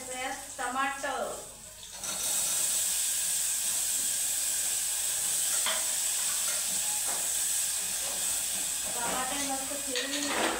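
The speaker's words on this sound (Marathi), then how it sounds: "हिरवी मिरची फिरून घ्यायची आणि नंतर टाकायचं यात टमाटर." Green chili and tomatoes frying in a pan for khichdi, a loud continuous sizzle and hiss of hot oil that starts after a few seconds of voice and carries on with occasional stirring.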